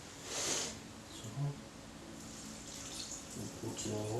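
Warm water poured for activating yeast while making healthy homemade bread, a steady close splashing stream running through the clip with a brief clink partway.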